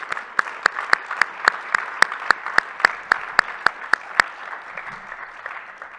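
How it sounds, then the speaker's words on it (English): Audience applause at a Boise State event, heard as a steady wash of clapping with a string of louder, regular individual claps standing out above it before the applause fades away. "I want you all to give her a warm round of applause"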